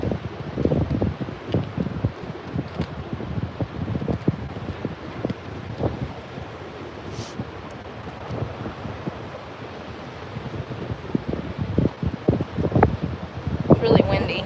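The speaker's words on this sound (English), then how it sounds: "It's really windy." Strong wind buffets a microphone at a Florida beach, with gusty rumbling bursts over a steady roar of surf. A person talks intermittently under it.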